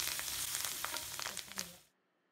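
Curry leaves frying in hot oil make a close, crackly sizzle with scattered pops, gradually easing off before cutting to silence near the end.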